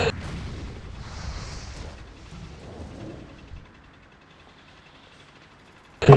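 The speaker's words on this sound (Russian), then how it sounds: "Взрыв." A video game explosion, a deep, rumbling blast that rolls on for a few seconds and fades to quiet, followed by a sharp, loud burst at the very end.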